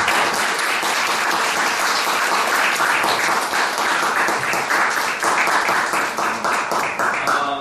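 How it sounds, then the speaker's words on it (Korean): Sustained audience applause at a presentation event, a thick, even roar of many people clapping nearby that holds steady for several seconds. "한국 대표 중심 파워버 대표님 박수 부탁드립니다."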